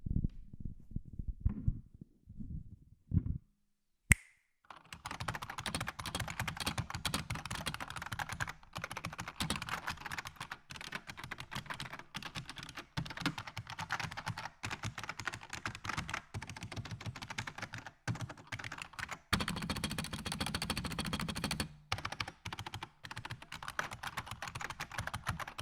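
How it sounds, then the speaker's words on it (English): Rapid, steady typing on a Unicomp Model F104 buckling spring keyboard, dense clicky keystrokes running continuously after a few isolated presses and a short pause at the start, close and clear with no voices. "Here is a typing test of the Unicomp buckling spring keyboard."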